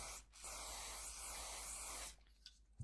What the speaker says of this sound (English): A light spray for the spring.